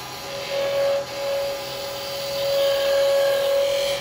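A woodturning lathe spins while a round bar carbide chisel cuts a small Christmas tree shape, making a whirring motor hum with a thin steady whine that breaks off briefly, then continues, under a hissy scraping cut.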